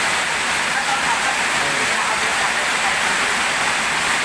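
Steady, dense rain pours down with a broad hiss, continuous and fairly loud throughout, water running heavily and flooding with no breaks.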